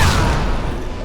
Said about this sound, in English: The sound effect used for the grenade explosion is different as well.